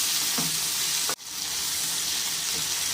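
Onion and tomato sautéing in a pan with salt and spice powder, a loud continuous hiss with a few soft stir strokes and one sudden brief dropout partway through, close and without speech.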